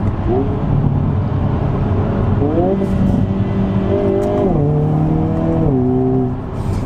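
A 2022 Hyundai Kona N engine with an 8-speed wet dual-clutch transmission drones loudly from inside the car, its pitch dropping in several quick stepped downshifts with brief rev blips between.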